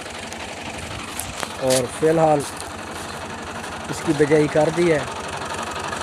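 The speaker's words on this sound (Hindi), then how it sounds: "ये फिएट गाड़ी ट्रैक्टर हमने रखा हुआ है" Fiat tractor with its diesel engine running steadily in a farm field, a constant low rumble under someone speaking nearby.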